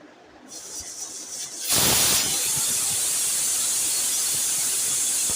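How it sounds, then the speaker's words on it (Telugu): A pressure cooker on the stove, cooking chana masala, hisses quietly and then bursts into a loud, sustained steam whistle that holds steady to the end, with no talking. "మూత పెట్టి ఏడు నుండి ఎనిమిది విజిల్ వరకు కుక్ చేయాలండి"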